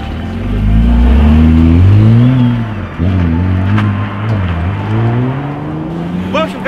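Nissan GT-R engine firing up from cold and revving, loud and close, with rising and falling pitch sweeps as the throttle is blipped, and people talking over it.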